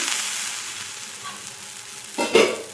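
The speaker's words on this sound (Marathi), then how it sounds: "शेंगदाण्याचा कूट टाकल्यानंतर आपण आणखी झाकण लावून 2 मिनिटं परतून घेऊ।" Fanda vegetable with crushed peanut powder is stir-fried in a pan, sizzling close up and slowly easing off before a short burst of stirring scrapes and clatter near the end.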